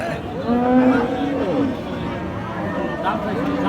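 Beef cattle, crossbred and Friesian, moo at a busy livestock market in Raniganj, Dinajpur. Several long, low, nearby moos sound over a background of crowd chatter and voices.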